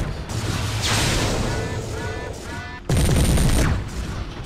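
LB-10X autocannon fire in Mechwarrior 3 from the Pirates Moon campaign, heavy booming bursts over a dense wash of mech combat noise with rising electronic tones, loud throughout; someone talks over the action.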